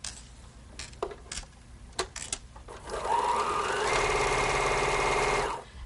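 A sewing machine stitching a quarter-inch seam along a quilted table runner border, with fabric handling clicks first and then a steady close whirring run of stitching that stops abruptly.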